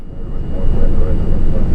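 A DC-6 piston engine drones loudly and low during a ground run, its RPM sagging slightly in a magneto ignition check, with a rough, rumbling throb and wind-like buffeting throughout.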